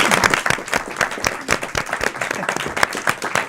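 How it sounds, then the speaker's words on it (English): A panel audience gives a round of applause, dense clapping from many hands sustained throughout, fairly close and even in loudness with no talk over it. "Let's give a round of applause for our panel"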